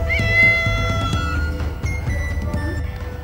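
A cat meowing loudly and close, a drawn-out tonal cry that wavers in pitch and repeats over a few seconds, with no talk.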